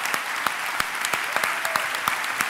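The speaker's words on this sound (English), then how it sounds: "just stand up and have people clap you" Conference audience claps for the volunteers at a closing session, a sparse, steady run of individual handclaps with no voices over them.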